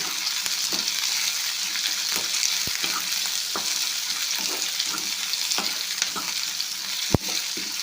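Onions frying in oil for North Karnataka style stuffed brinjal, a continuous fairly quiet sizzle and crackle with scattered small ticks and taps from stirring, and no voices.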